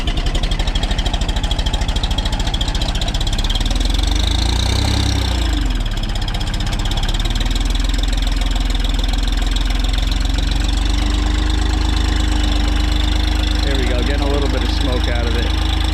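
A diesel landscaping vehicle idles loudly and steadily after a cold start at -2°F, its low rumble close and constant, with people talking over it.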